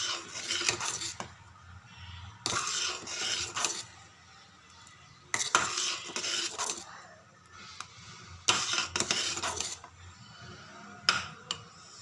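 Dry fruits being stirred into a roti custard in a metal pan, with repeated bursts of spoon scraping and clinking against the pot separated by brief quieter pauses, close and alone.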